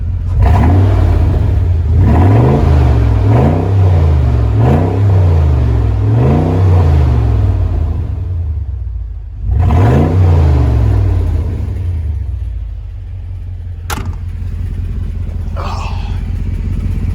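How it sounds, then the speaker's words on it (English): A Mercedes G-Wagon W463 G500 with its mufflers and resonators removed revs hard several times in a row, a loud, close rumbling engine roar rising and falling in repeated bursts, then settling into a rough idle. "this is a W463 G500, what it sounds like with no mufflers, no resonators."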